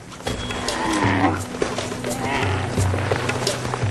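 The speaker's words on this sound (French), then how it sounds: "Le dromadaire." Deep, drawn-out groaning bellows from a dromedary camel, loud and close, repeating over a scuffling background.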